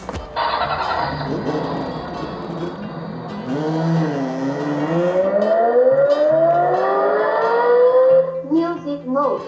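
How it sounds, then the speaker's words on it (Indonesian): Horn of a YUKITA 938 Rubicon children's battery-powered ride-on toy car, sounding a loud electronic melody with rising and sliding siren-like tones for several seconds, close to the microphone. "Saya coba nyalakan ya, biar kalian tahu seperti apa kira-kira bunyi klaksonnya"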